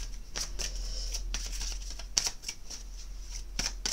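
Large oracle cards being shuffled by hand, a run of crisp papery riffles and slaps in an uneven rhythm, close and fairly quiet with no talking.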